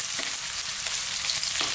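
Garlic, onion and other aromatics for squid adobo sautéing in hot oil in a pan, a steady close sizzle with a few soft stir scrapes, no voices.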